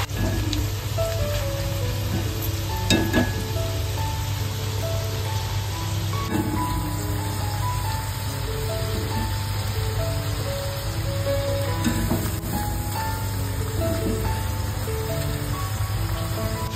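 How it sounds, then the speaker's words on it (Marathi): Onion bhaji frying in hot oil, a steady dense crackling bubble with small pops and clinks, continuous and fairly close throughout, with no talking. "अशा प्रकारे हलकेसे ब्राऊन कलर येईपर्यंत ते व्यवस्थित फ्राय करायचे"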